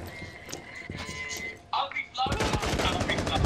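Rapid gunfire bursts in the video game Rainbow Six Siege, a dense run of sharp shots in the second half after quieter game noise, with a voice talking over it.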